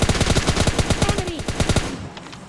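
Gunfire in PUBG Mobile Lite, a rapid burst of automatic weapon shots, loud and close, rattling in fast succession for about two seconds before cutting off.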